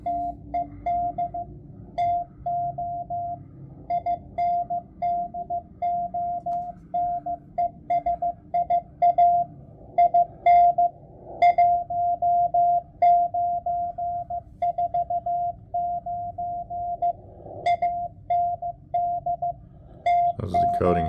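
Morse code tones come through a Tecsun H-501X shortwave radio tuned to the 40 and 80 meter amateur bands, a clear steady beeping in keyed dots and dashes over soft static, carrying on for about twenty seconds.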